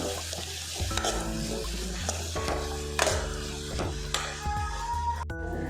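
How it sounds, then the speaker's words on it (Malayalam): Spiced chicken filling for samosas, made with ginger, garlic, curry leaves, chili powder, turmeric and chicken masala, sautéing in a pan. A continuous close sizzle runs throughout, broken by repeated scraping stirs and clinks of a spoon against the pan. "നമുക്കിത് വഴറ്റിയെടുക്കാം"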